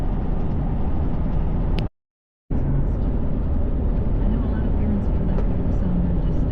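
A Willys wagon drives along with a steady engine drone and road rumble, loud and continuous apart from a brief cutout, while someone talks over it.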